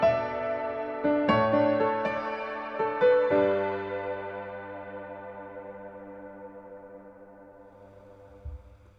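Electric piano chords ring out with a spacious reverb passed through a low-pass filter, their tone growing darker and duller as the notes decay into a long fading tail.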